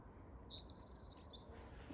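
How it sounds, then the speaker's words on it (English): Bright robin-like song phrases twitter faintly in the distance over a low outdoor hum, with no talking. "You can listen to the robins in the background."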